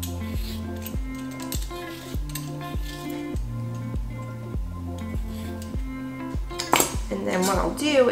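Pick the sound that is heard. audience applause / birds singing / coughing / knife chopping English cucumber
knife chopping English cucumber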